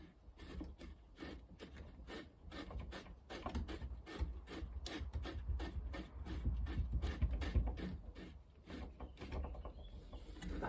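A plastic waste pipe fitting with an O-ring is screwed tight by hand, giving a steady series of close, quiet plastic scraping and rubbing clicks as the threads turn.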